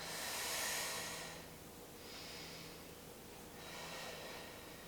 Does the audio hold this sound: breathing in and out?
yes